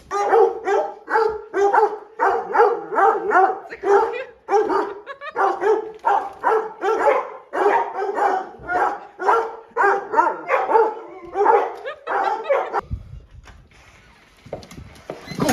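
A dog barks over and over in a steady, fast rhythm of sharp, close barks for most of the stretch, then falls quiet near the end.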